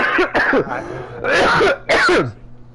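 A person coughs and clears their throat several times in quick, harsh bursts, close and loud, with rough voiced rasps between them.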